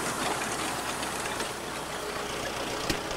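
Tractor engine running with the hand throttle opened to drive a hay turner, a steady broadband mechanical roar with no clear rise in pitch, and no voices.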